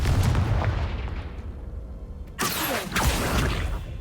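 A Confringo fire spell from Hogwarts Legacy detonates as a sudden loud boom with a crackling blast tail, following a stretch of rumbling game ambience and a second burst just after.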